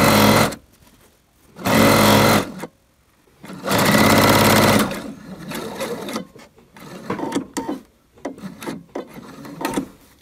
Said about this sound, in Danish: Og så syr vi rundt ned i bunden.